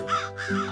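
Bird chicks in an animated story cry out in fear from a tree, a single harsh, close caw-like call lasting under a second.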